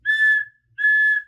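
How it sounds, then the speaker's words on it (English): A silver whistle is blown twice, two loud, clear, sustained shrill blasts separated by a short pause, heard close and alone. "so she blew her silver whistle twice."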